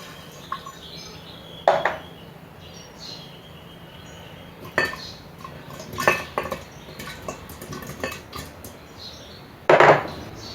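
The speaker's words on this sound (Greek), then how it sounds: "Προσθέτουμε όλα τα υλικά μέσα στο βάζο." Cinnamon sticks, allspice, cloves and sugar dropped into a glass jar for cherry liqueur, a few separate clinks and knocks scattered over a quiet background, the loudest near the end.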